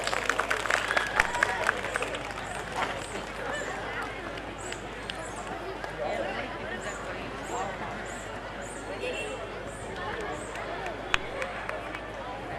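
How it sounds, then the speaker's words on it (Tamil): An audience at a neighbourhood welfare association's 26th annual celebration in Madurai claps steadily through the whole stretch, a moderate crowd applause with a faint hubbub underneath. "கைத்தட்டு பத்தலைங்க."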